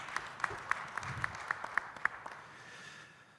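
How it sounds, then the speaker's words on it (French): Sparse, distinct claps from a small audience at an energy transition round table, about a dozen spaced hand claps welcoming Sikamel Ben Nasser, then fading to quiet room tone. "Je vous demanderai d'applaudir Sikamel Ben Nasser."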